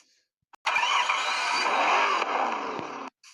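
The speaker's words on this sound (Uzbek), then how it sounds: "Do'stlar, motorni ovozini eshitinglar." A car engine revs hard for about two and a half seconds, a loud close rising roar that holds and then cuts off abruptly, with brief quiet before and after.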